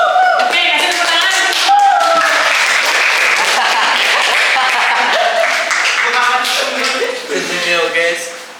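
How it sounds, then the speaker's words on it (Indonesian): Students in a high school classroom clapping for classmates heading to the front to present, loud close applause mixed with overlapping chatter and voices throughout. "kasih tepuk tangan."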